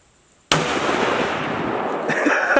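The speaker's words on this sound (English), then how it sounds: "It's been a long time since I shot this gun." A sudden sharp handgun shot fired outdoors, one loud crack after near silence, followed by a long ringing echo and rumble that slowly decays.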